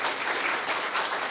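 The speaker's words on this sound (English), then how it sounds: "a round of applause" Steady, fairly soft round of applause from the audience at a mutual fund industry conclave, a brief continuous wash of clapping with no voices over it.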